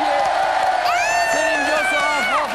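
A TV studio audience on a French talk show cheers and whoops, with a high whistle-like cheer rising over a crowd roar while voices carry on underneath.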